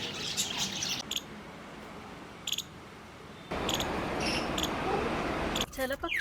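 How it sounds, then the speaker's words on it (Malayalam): Birds give brief high chirps and tweets in a wildlife sanctuary, scattered over a steady background hiss, with a short run of sharper calls near the end. "ചില പക്ഷികളൊക്കെ നമ്മൾ അടുത്തേക്ക് വരണുണ്ട് എന്ന് പറഞ്ഞു കഴിഞ്ഞാൽ അവർ ഒളിഞ്ഞിരിക്കും കേട്ടോ, എന്നിട്ട് ഒച്ച ഉണ്ടാക്കും"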